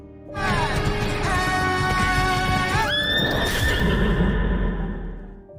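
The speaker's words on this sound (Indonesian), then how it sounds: "Dengan menunggangi kuda, Karnan siap membalaskan dendam atas kematian Yeman." A horse in a film whinnies loudly and at length as its rider sets off, the long neigh rising and shifting pitch over a rumble of hooves and movement before fading out.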